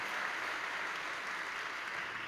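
Concert audience at a high school spring concert applauding the accompanist, a steady, fairly soft wash of clapping from a crowd heard alone throughout.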